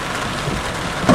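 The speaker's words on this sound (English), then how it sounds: "It's like very heavy rain because it's very intense" Very heavy, intense rain pours down steadily during a Florida thunderstorm, a loud, dense hiss of drops on surfaces close by with no voices.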